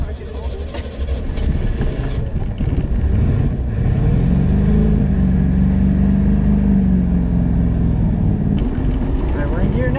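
A 1990 Cobalt boat running in gear and moving on the water, its engine a loud steady rumble that rises in pitch as it speeds up, with wind buffeting and people talking over it.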